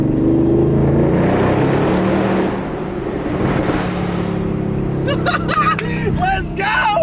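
A Ford Coyote V8 on a dyno during custom tuning drones loud and close, then revs and crackles with sharp exhaust pops toward the end, while people talk and shout over it.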